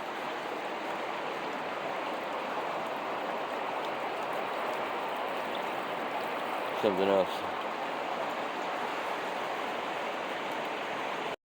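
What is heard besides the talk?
fast-flowing river water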